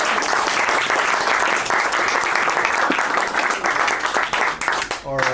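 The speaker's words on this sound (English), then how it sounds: "First of all, a big applause for this." Loud, dense applause from a crowd fills the whole span, steady clapping without pause, tapering slightly at the end.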